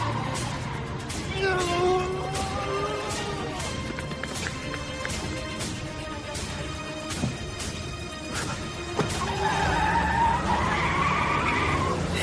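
A car pulls away hard with its tyres skidding and squealing in a continuous screech over engine noise, rising again toward the end.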